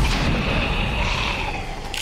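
Gunfire in the video game XCOM 2 (War of the Chosen, modded) rumbles as a heavy, continuous low-frequency blast that sustains for about two seconds, loud and booming, ending with a sharper burst.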